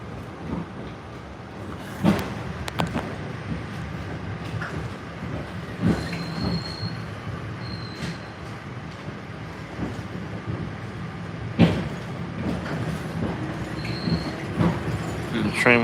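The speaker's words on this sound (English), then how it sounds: "the operator is fighting with the train now" An MBTA Red Line subway train runs along the track at low speed, a steady close rumble with rhythmic rail clicks, occasional sharp knocks and faint wheel squeals throughout.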